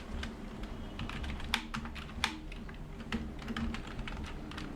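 Names are typed into an Excel attendance register on a computer keyboard, producing soft, quick irregular key clicks with a few sharper taps, close and quiet, with no speech.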